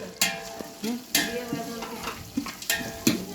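Whole spices are stirred in a pot over heat for a biryani, giving sharp periodic scrapes and knocks of a ladle against metal over a constant low sizzle, close and clear with no talking.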